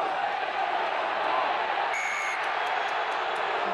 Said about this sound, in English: Leinster crowd booing because Ulster didn't get the ball in quickly enough